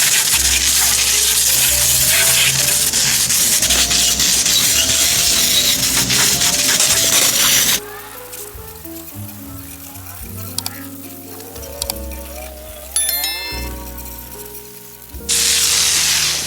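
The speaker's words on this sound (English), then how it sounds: "just take it outside quick and hose her down" A garden hose sprays water on a bicycle outdoors, making a loud, broad hissing gush for several seconds. It then cuts off to quieter mixed sounds and briefly returns at the end.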